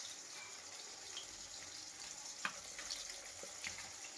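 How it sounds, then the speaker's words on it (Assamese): Fish frying in a home kitchen, a steady soft sizzle hiss running throughout with a few faint clicks and taps, quiet and fairly distant, no voices. "চাওকচোন মাছ ভাজি আছোঁ।"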